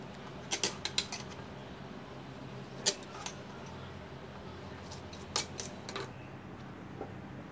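Knife trimming the hard crust edges off store-bought sandwich bread, a few quiet scraping, crunchy cuts in short bursts separated by pauses, close by and otherwise quiet.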